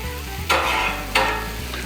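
A smash burger patty sizzles on a Blackstone griddle in avocado oil, a steady close frying hiss with two louder bursts of crackle partway through.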